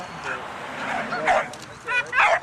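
Dog yipping and whining in short, high bursts, some close and sharp, in a band recording session, with people talking alongside.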